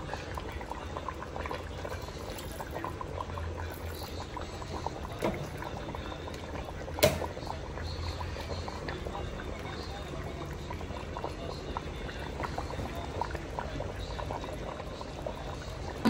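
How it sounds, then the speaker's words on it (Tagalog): Vinegar poured into a pot of simmering pork adobo gives a close, steady bubbling and sizzling that runs continuously, with one sharp click partway through. "Lagyan natin siya guys ng konting suka."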